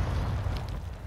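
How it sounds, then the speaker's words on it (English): A mortar strike explodes in a first-person shooter match, a loud, sustained low rumbling blast filling the whole moment with dense, boomy energy and no talk over it. "Mortar strike. Mortar strike."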